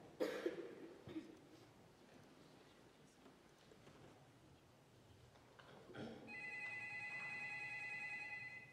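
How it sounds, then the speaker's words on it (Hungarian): In a 2019 Holocaust commemoration program, a few coughs and faint room noise are followed by a telephone that starts ringing with a steady, bright, bell-like tone for the last two seconds. "A telefon?"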